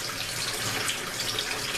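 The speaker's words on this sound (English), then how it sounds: "give it a nice rinse and a nice scrub" Raw oxtail is rinsed under a running kitchen tap, with a continuous, close, loud rush of water splashing into the sink and no speech.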